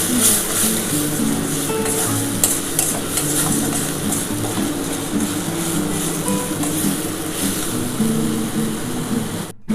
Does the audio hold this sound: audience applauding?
no